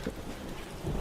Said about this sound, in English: That would be rain.